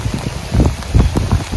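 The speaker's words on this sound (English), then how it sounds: "I'm getting pelted by hail right now, guys. I'm sure you can probably hear it hitting my jacket." Hail hitting a rain jacket during a windy spring fishing outing: dense, rapid patter of pelting impacts with irregular thuds, loud and close, without talk.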